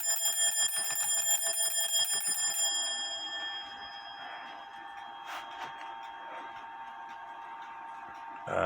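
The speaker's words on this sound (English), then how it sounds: "we have an alarm." An alarm bell on an antique 1830 Black Forest shield grandfather clock rings in a rapid, steady metallic clatter for about three seconds, then stops, leaving a fading ringing tone and faint handling noises.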